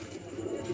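Caged pigeons coo softly, with a low, brief throaty murmur at a competition gathering of racing pigeons, faint and close against a steady background noise.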